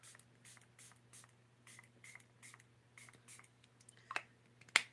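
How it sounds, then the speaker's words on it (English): Several short pumping sprays of makeup setting spray hiss in quick succession, soft and close, with a couple of faint clicks near the end. "I think I might spray it too much on, but it'll dry"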